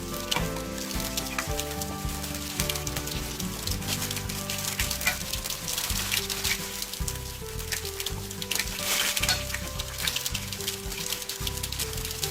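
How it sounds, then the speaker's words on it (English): Shrimp tempura frying in hot oil gives a steady, dense sizzle that keeps going for the whole stretch, with music running underneath. "I'm gonna fry my shrimp"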